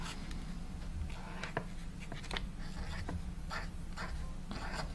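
A brush pen writing on paper, heard as soft, close scratchy strokes that come in short repeated bursts over a steady low background hum.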